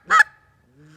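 A goose call blown hard from the diaphragm gives one loud, raspy honk that breaks upward, followed by a faint low tail, heard alone.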